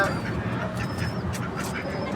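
Several ducks quack in short repeated calls at moderate distance, over a busy rustling outdoor background with pigeons nearby.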